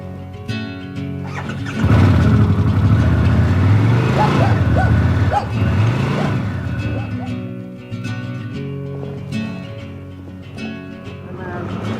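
A Harley-Davidson Pan America motorcycle rides off, its engine swelling into a loud, steady drone with rising and falling rev sweeps mid-run, then settling into a lower hum, close by with no talk.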